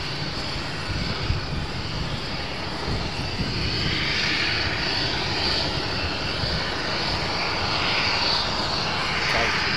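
Boeing 747 cargo jumbo jets at Amsterdam Schiphol produce a loud, continuous engine roar that swells slightly as they line up for takeoff, with a voice faintly audible beneath.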